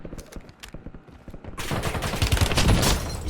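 Gunfire in the video game Warzone starts as sparse individual shots and then breaks into dense, sustained rapid fire that grows loud and continues to the end.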